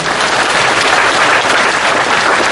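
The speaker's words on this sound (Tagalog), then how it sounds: "Malakas na palakpak kay Lord." A church crowd claps loudly and steadily, dense applause filling the whole moment with no voices on top.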